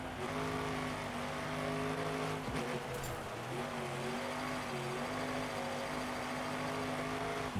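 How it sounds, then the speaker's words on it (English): A car in the Gravel racing game drifts around a track, steady loud engine drone with shifting revs and a brief tire scrape near the middle, continuous throughout with no voices. "sometimes drifting is the best way around the track"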